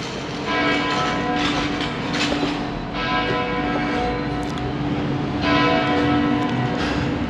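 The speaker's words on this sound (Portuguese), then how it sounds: "Aqui são os sinos da catedral badalando." Cathedral bells in Sarajevo, Bosnia ring out repeatedly in a dense, overlapping peal, their clanging tones steady and fairly loud with faint street ambience beneath.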